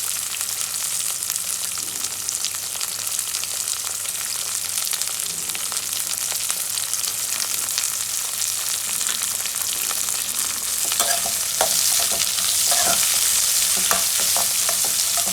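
Curry leaves and seasonings fry in hot oil for a South Indian tomato bath, giving a steady close sizzle that swells into louder crackling and spitting pops near the end.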